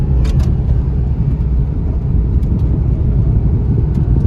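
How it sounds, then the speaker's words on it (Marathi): A tractor pulling a sugarcane trolley passes on a road, a loud, steady low rumble that holds for the whole stretch, with no voices over it. "उसाची ट्रॉली ना ही"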